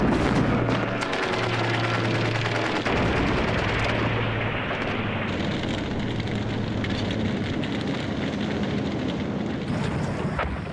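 Wartime battle gunfire as German troops fire on Allied reinforcements parachuting down, a continuous loud dense roar of shots and blasts with sustained low rumble throughout and no speech.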